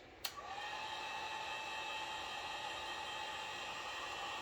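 Heat gun blowing on taillight tint film on a Tesla Model 3, a steady whooshing airflow with a high motor whine after a small click at switch-on, continuous and close.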